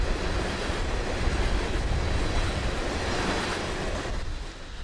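A freight train rolls past on a Florida main line near Plant City, heading toward Tampa. Its steady, loud rumble and wheel noise fill the whole stretch and ease off slightly at the end.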